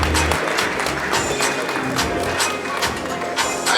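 The audience at an anniversary celebration party keeps up sustained, dense applause, many hands clapping evenly and fairly close throughout, with a voice faintly heard over it.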